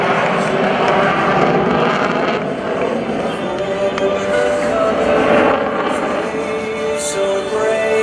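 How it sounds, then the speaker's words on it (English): An F-16CJ Fighting Falcon fighter jet at the 2015 Rhode Island Air National Guard open house airshow gives a loud, steady, broad engine roar that holds without a break throughout. "Following him through is Captain Craig Baker in the F-16 Fighting Falcon."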